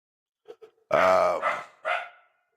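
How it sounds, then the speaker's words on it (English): A dog barking indoors, a few small yips followed by two loud, sustained close barks with a growling edge, heard alone with no talk. "My dog's about driving me half crazy right now. She won't shut up"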